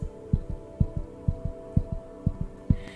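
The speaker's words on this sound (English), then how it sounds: "As their heart beating fast" Heartbeat sound effect, a steady run of low, thudding double beats in a lub-dub pattern with a faint hum behind them, close and prominent with no voices.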